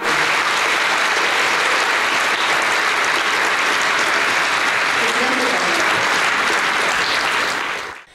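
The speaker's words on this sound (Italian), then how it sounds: "un applauso a Maurizio Costanzo" Loud, continuous applause from an audience at a charity holiday party, honoring Maurizio Costanzo, dense and steady for about eight seconds before cutting off abruptly.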